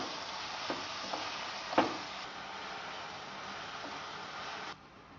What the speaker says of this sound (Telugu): చింతపండును కూడా ఒక 2 నిమిషాల పాటు ఈ నూనెలో వేగనిద్దాము